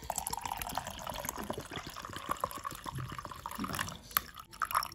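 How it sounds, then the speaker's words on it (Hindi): Plain cold water is poured into a home remedy drink, a soft trickling and splashing liquid sound with small drips, close and fairly faint, without speech. "तो चलो मैं पानी ऐड करती हूँ"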